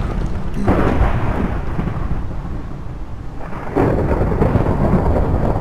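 Thunder rolls and rumbles loudly through a Minecraft world, a broad continuous roar that swells again near the end, with no voices over it.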